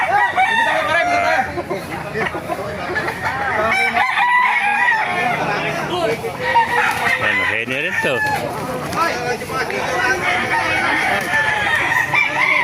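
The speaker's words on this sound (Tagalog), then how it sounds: "May mga manok dito sa Baliwag." Roosters and chickens crow and cluck at a Baliwag poultry market, several birds calling loudly and repeatedly amid crowd chatter, with people talking nearby throughout.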